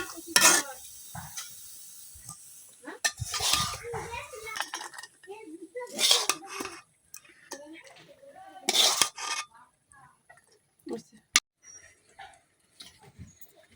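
Cooked lentil and potato bhaji is scraped and lifted off a pan with a metal utensil, making repeated scraping clatters and clinks in separate bursts, with a voice talking in between.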